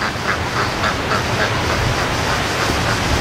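Ducks, including white ducks, quack repeatedly in a steady run of calls, somewhat distant over a constant background hiss outdoors near a swamp.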